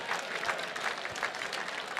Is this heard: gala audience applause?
yes